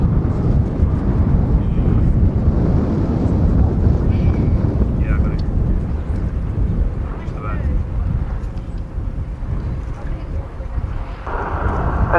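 A Bristol Blenheim Mk.I twin-engine aircraft rumbles past at the Duxford Battle of Britain air show, a steady distant drone with heavy wind buffeting on the microphone throughout.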